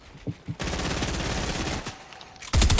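Gunfire in the Fortnite video game: a few single shots, then a long continuous rapid-fire burst, and a louder, harsher burst at the end, with no talking.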